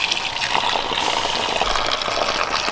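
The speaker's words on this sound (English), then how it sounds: "Need some water to put this out." Water gushes steadily from a hose onto an outdoor rocket stove fire used as a water heater, a continuous broad rushing splash held at an even, fairly loud level throughout.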